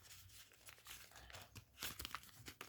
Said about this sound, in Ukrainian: Відкриваємо наш пакетик.